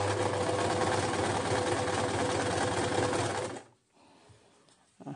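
A sewing machine runs a straight stitch with a twin needle, whirring steadily and close for about three and a half seconds before stopping abruptly into near quiet.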